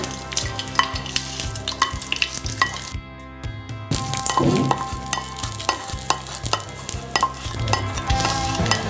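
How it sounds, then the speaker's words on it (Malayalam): Mustard seeds tempered with dried red chillies and curry leaves sizzle loudly as they are poured and stirred into Kerala-style beetroot pachadi, with steady crackling frying and spoon scraping throughout, a brief gap near the middle. "ഇനി നമ്മൾ താളിച്ചു വെച്ചിരിക്കുന്ന കടുക് പച്ചടിയിലോട്ട് ചേർത്ത് കൊടുക്കുകയാണ്."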